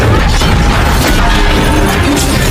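In a film scene, a satellite carrier machine malfunctions and smashes the satellites it carries. A dense, loud burst of crashing, grinding mechanical debris fills the whole moment with no letup and no voices.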